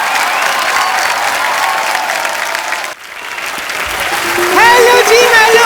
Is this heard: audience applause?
yes